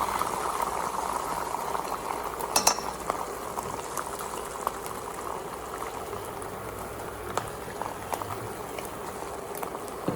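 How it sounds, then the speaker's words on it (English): Egg mixture cooks in very hot oil in a pan, giving off a steady, busy bubbling and sizzling hiss with occasional small pops and clicks, close by and continuous throughout without voices. "Wait until the oil is really hot, then pour the egg mixture into the center of the pan."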